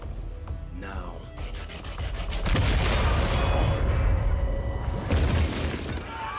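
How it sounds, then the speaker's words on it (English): Explosions in the XCOM 2 video game, a sustained roaring blast with debris and rumble building over several seconds, loud and close, mixed with game sounds and voices. "Loud explosions."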